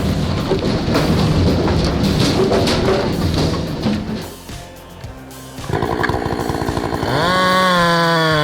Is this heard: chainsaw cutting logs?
yes